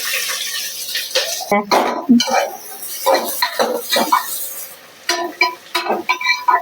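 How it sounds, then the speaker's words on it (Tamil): Chopped big onions are tipped into a cooking pot for country chicken biryani, bringing close, clattering metal scrapes and knocks in quick irregular bursts. "பெரிய வெங்காயம் கட் பண்ணி வச்சிருந்ததை நம்ம போட்டுக்கலாம்"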